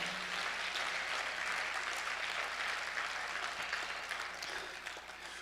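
Church congregation applauding together during a sermon, a dense, steady wash of clapping that runs loud and continuous before easing slightly toward the end.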